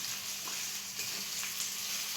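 Onion frying in hot oil with ginger-garlic paste, giving a continuous close sizzle, a dense steady hiss with small crackling pops throughout, no talking over it.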